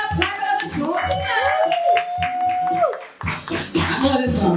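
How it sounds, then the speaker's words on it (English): A comedy show audience claps for the next comedian, with scattered applause mixed under voices and a sustained vocal tone close by. "I want y'all to clap it up for our next guest."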